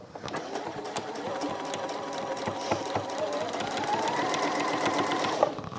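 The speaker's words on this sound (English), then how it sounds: "then I can just finish off sewing around" Sewing machine stitching steadily around the circular fabric base of a contrast textile caddy, a continuous close whirring hum with fine rapid needle ticks, running unbroken without talk.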